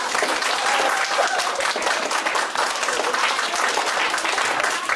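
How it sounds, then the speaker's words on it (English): An audience breaks into loud, sustained applause, many hands clapping densely and steadily throughout without pause. "But let's do a really loud applause for Gary Rabior."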